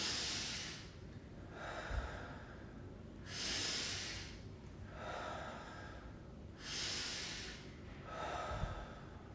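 Slow meditative breathing, with long airy inhales and exhales repeating in about three calm, even cycles, close and soft with no talking.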